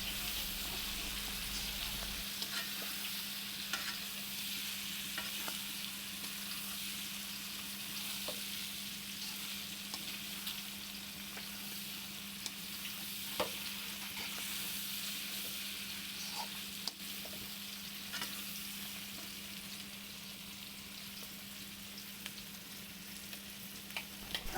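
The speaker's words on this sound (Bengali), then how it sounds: "দিয়ে একটু ভালো করে কষে নেব।" Packaged fish masala sautés in a pan for a rui fish curry with flat beans, potato and cauliflower, a soft, steady frying hiss with occasional light stirring taps, fairly quiet and without speech.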